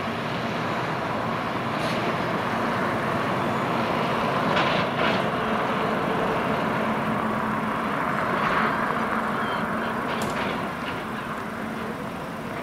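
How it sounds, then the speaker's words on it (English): Harlander driverless self-driving bus approaching outdoors near Titanic Belfast, a steady broadband rumble and road noise that swells slightly midway and holds throughout, with no talk over it. "Northern Ireland's first driverless vehicle being tested out."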